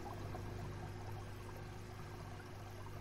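Fresh water pours into an aquarium in the video game Aquarist, a steady, continuous rushing stream that holds evenly for about three seconds with no talk over it.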